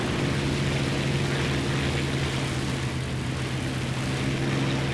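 HS-123 biplane engine droning steadily in War Thunder, a continuous loud propeller hum with a strong low tone held throughout, no talking.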